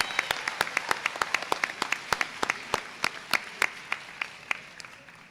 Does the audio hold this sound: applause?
yes